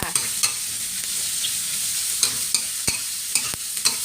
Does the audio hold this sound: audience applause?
no